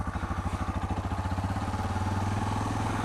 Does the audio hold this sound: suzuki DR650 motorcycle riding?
yes